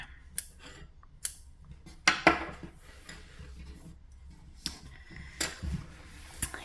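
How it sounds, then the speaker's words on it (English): Scissors snip yarn on a crocheted African flower square, a few sharp close clicks and one brief cutting rasp scattered over several seconds, with light handling noise between them. "cut the yarn"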